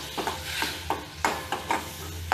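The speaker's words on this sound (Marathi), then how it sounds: "2 मिनिटं परतून घेतीये. मसाला आता परतून होतोय." Green mint and coriander masala sautéing in a pan, with a low sizzle beneath a series of regular scraping strokes of a spatula against the pan, close and clear, no talking.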